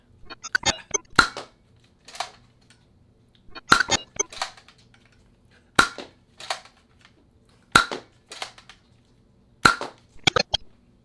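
A Teenage Mutant Ninja Turtles Nerf blaster fires in a slow series of five or six sharp, loud pops, each followed by plastic clacking as it is primed again, with no talk.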